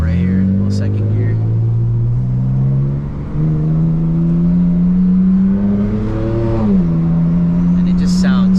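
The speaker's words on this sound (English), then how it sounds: "Do a little pull right here, a little second gear." A 2010 BMW E90 328xi pulls hard in second gear, its engine note rising steadily and shifting pitch once near the end, loud and close from inside the car while the exhaust and drivetrain hum continuously.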